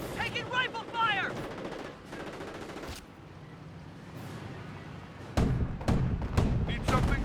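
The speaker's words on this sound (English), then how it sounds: "Taking rifle fire!" Rifle and machine-gun fire in a Company of Heroes battle, US forces against Panzer Elite, with dense bursts of shots and a short game voice line early, a quieter stretch, then heavy, close volleys that return near the end.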